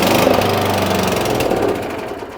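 An Atco Balmoral cylinder mower engine runs at full throttle, a loud, rough, steady rattling roar that carries through the whole stretch and eases slightly near the end, with no talking.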